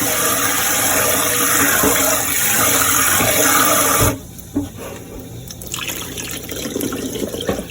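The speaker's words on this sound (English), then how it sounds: "You only want to pour out the water." Rinse water pours off washed rice in a steady rushing stream for about four seconds, then cuts off, leaving faint drips and trickles in a sink.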